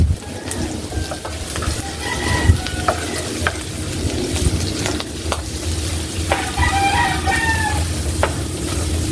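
Garlic and onion sautéing in a pan for a Filipino pechay dish with ground meat and tomato: a steady, close sizzle with stirring scrapes throughout, while a rooster crows in the background.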